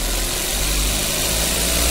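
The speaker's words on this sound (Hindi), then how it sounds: "रेस करके इसको इंजन को गर्म करते हैं और फैन चेक करते हैं" Maruti Suzuki Ignis engine held at a steady rev to warm up during accident repair checks, a loud continuous drone with a strong low hum, close by and without talk.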